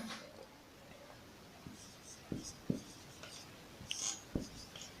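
Pen or pencil writing on paper during a Class 9 maths lesson, soft scratchy strokes with a few sharper taps, faint and close, with quiet background hiss and no speech.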